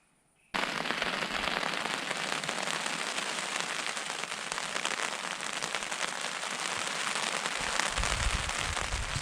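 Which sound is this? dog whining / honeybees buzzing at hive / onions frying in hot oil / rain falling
rain falling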